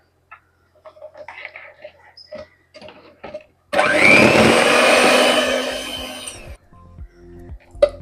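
An electric mixer whirs loudly for about three seconds through eggless strawberry cupcake batter, preceded by quiet bowl clatter and handling noises in a home kitchen.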